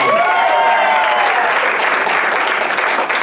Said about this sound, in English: give Tanner a round of applause as he comes back down